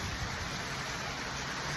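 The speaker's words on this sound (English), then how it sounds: "It's raining outside, as you can see." Steady, soft rain falls outside a porch. The hiss is even and unbroken, with no talking.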